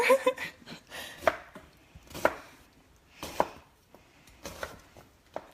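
Onion being chopped for mango salsa with a knife on a board, sharp close chops spaced about a second apart, sometimes in quick small clusters, with quiet gaps between.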